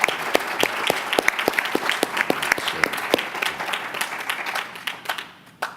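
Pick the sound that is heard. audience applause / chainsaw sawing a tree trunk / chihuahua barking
audience applause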